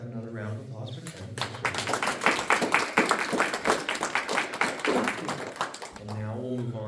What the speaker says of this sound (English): let's have another round of applause for Tim